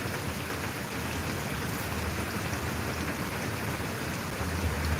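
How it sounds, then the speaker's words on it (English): Heavy rain pours steadily during a severe thunderstorm under a tornado warning in southeast Oklahoma, a dense continuous hiss close by with no talking. "Some people love to sleep during the storms like this."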